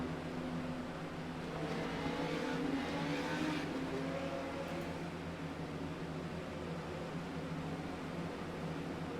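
Legend race cars idle and drone behind the pace car during a caution before a restart at USA, a steady low engine rumble with broadband noise throughout, fairly distant and without talk.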